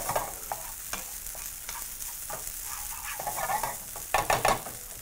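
Cumin rice sizzles in a hot pan while a utensil scrapes and stirs, with soft irregular scraping strokes and a louder clattering burst near the end.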